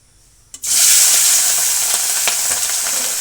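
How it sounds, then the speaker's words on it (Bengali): Pieces of fish drop into hot oil, setting off a sudden loud sizzle that stays strong and crackling, with a few pops, close by and without talk. "এবার আমি এক এক করে মাছের পিসগুলো তেলের পরে ছেড়ে দেবো"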